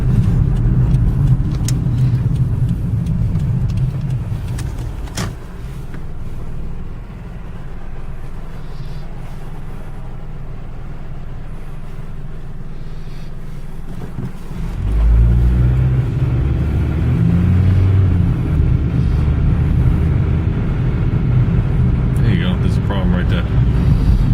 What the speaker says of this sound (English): it goes to shift, and it sounds like whatever's coming off a third gear is just sliding away